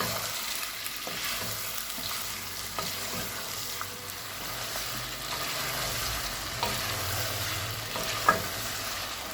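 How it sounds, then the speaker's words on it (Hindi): One kilogram of salted chicken frying in a spice paste for murgh cholay, a steady moderate sizzle with occasional stirring scrapes and one sharp clink near the end, with no talk. "अब चिकन को पेस्ट में अच्छे से फ्राई करेंगे।"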